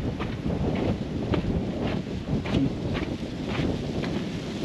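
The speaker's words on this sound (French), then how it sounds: "il y a un petit vent frais là, ça fait du bien." Cool wind on a mountain trail on Réunion island buffets the microphone in steady, rushing gusts with occasional louder thumps, loud and continuous, with no voices.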